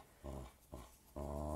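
A bored dog growls in play, three bursts of low, rumbling growl separated by short pauses, the last one longest and loudest, close by with no talk.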